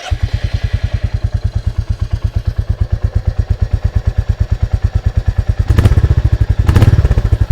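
A 2021 Royal Enfield Classic 350 motorcycle engine idling with a deep, regular thumping beat, close and loud, briefly revving up twice near the end before settling again.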